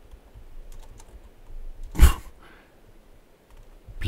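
A few light, scattered computer keyboard taps, with one sharper, louder keystroke in the middle, close and in a quiet room.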